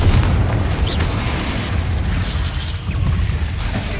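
A Confringo explosive spell goes off in Hogwarts Legacy, booming loudly into a sustained low rumble with crackling bursts layered on top, staying heavy and dense throughout.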